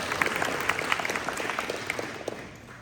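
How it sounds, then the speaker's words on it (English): Applause from an audience at a community dessert fundraiser event, a steady patter of many hands clapping at moderate volume that gradually tapers off toward the end. "go ahead, clap for Sherry."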